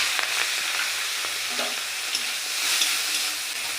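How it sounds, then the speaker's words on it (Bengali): Salt-and-turmeric coated prawns frying in hot white oil in a kadai, a steady broadband sizzle with occasional stirring scrapes, close and continuous, no voices. "আমি চিংড়ি মাছগুলো নুন হলুদ মাখানো চিংড়ি মাছ ভেজে নিই।"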